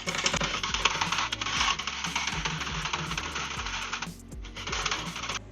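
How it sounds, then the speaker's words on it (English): Milk and cream are quickly whisked together in a bowl, a busy metallic clatter of whisk against the sides carrying on near and steady with a brief dip before resuming. "And then I'm just going to quickly whisk those together."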